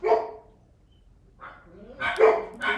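Several dogs bark indoors in short, loud bursts at the start and again near the end, with a quiet gap between the outbursts.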